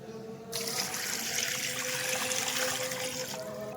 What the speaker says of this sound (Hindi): 2 लीटर पानी ऐड कर देंगे।